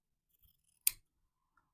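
A single sharp snip of scissors cutting through fabric, crisp and close, with near silence around it.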